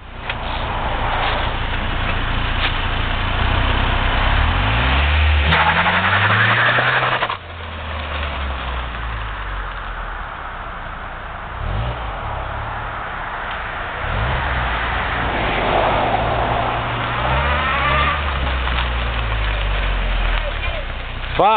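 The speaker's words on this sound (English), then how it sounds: "Hold the gas all the way, and the clutch, you let it go fast." A manual-transmission car's engine revs in rising and falling surges while the driver works the gas and clutch, heard close under ongoing talk from people in the car.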